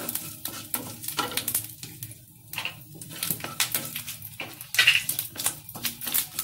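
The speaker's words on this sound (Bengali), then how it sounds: "সর্ষে গোটা সর্ষে কারি পাতাটা একটু বেশি ভাজবো বেশ ভালো গন্ধ আসে কারি পাতা" Whole mustard seeds and curry leaves frying in hot oil for coconut chutney, a close crackling sizzle with rapid popping bursts and occasional utensil knocks against the pan, without speech.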